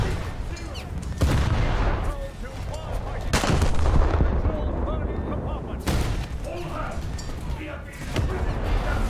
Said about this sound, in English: I'm being shot from every side.